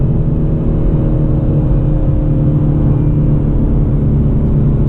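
A Hyundai Veloster N pulls hard under launch control, its engine a loud, steady, close rumble with dense low drone filling the whole stretch, heard from inside the car with no talking.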